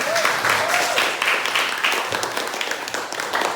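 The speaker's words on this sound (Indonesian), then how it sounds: "tepuk tangan buat kelompok satu" A classroom group claps for the first team, a dense, steady patter of many hands sustained throughout at moderate loudness, with voices faintly mixed in.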